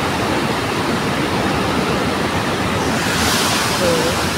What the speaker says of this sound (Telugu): వాటర్ కొంచెం ఎలా వెళ్తున్నాయి వాటర్ అనేది కూడా చూడండి